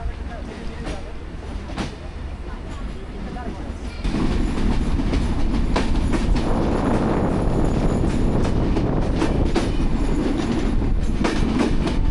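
A train rolls toward Rajshahi in Bangladesh with a loud, steady rumble and rhythmic clickety-clack of wheels on rails. The din swells sharply after a few seconds and stays close and continuous.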